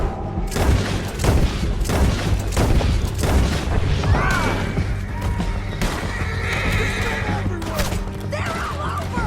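Horses from Red Dead Redemption 2 whinny and neigh loudly over galloping hooves during a canyon ride. Gunfire and booms burst around them and voices shout in between.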